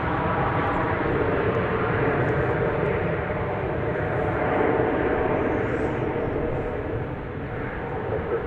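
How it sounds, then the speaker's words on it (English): An American Airlines flight departs DFW Airport for Tampa, Florida, its jet engines producing a steady, broad roar that stays loud and even before easing slightly near the end. "Here goes American Flight 1369, traveling to Tampa"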